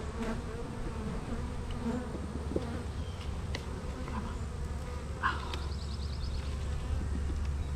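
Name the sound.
honey bees buzzing around an opened hive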